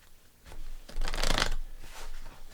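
Tarot cards are shuffled and drawn at close range: a soft papery riffle builds to a louder, dense burst around the middle, then trails off into lighter card handling, with no voices.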